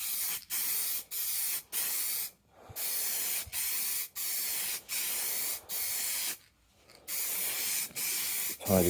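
A spray paint can coats the spoiler undertray of a 1994 facelift Jaguar XJS V12 in a string of about ten steady hissing bursts, each a second or so long, with short gaps and one longer pause between them.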